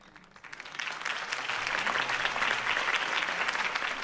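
A crowd at a campaign speech in the Batman Telltale video game breaks into applause, rising from quiet over the first half second into a full, steady roar of clapping that holds to the end.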